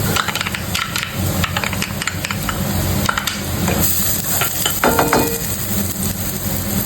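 Garlic, onion and other aromatics sauté in a pan for chicken curry with a steady close sizzle, stirred with scraping and occasional utensil knocks against the pan.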